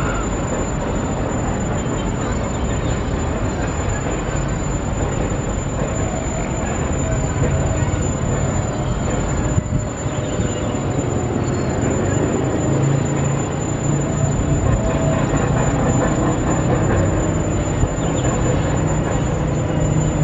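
A DF4B diesel locomotive rolling past at close range, with a steady, dense rumble and rail noise holding loud and even throughout, with faint intermittent wheel squeal over it and no talk.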